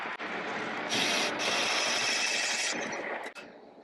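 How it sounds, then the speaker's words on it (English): A drill whirs into the metal of an Ironhead cylinder head, boring out a spark plug hole, with a grinding, rasping buzz that rises sharply for a couple of seconds, then stops abruptly. "drill out the spark plug hole to the tap drill size"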